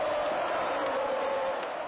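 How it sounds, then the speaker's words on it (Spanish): Football stadium crowd in Córdoba roaring an ovation for a goalscorer at a Belgrano versus River match, a dense, loud, sustained wall of cheering voices with no break. "Ovación al goleador."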